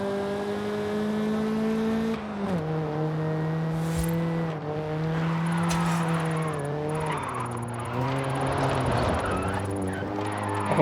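A 1985 Toyota Sprinter Trueno Apex GT drift tune in Forza Horizon 5 holds a steady, loud engine drone in third gear while drifting, its pitch dipping and shifting as revs rise and fall, with tyre scrub underneath throughout.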